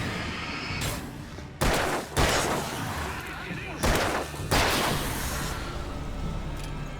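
Loud, sharp gunshots ring out in the video game Alan Wake, a handful of heavy blasts spaced irregularly over a rumbling background.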